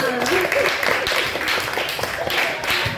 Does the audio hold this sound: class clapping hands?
yes